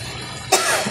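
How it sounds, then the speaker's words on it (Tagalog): A single sharp cough from someone cooking a meat and onion dish, set off by spicy chili pepper, bursting out close and loud over quiet kitchen background noise near the end. "Ay, inuubo ako talaga sa sili."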